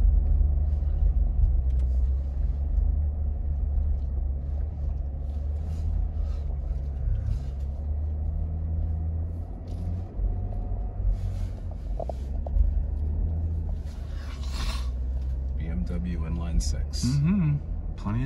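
An INEOS Grenadier off-roads over a stump, the engine giving a low steady rumble from inside the cabin with scattered knocks and creaks, while people talk over it.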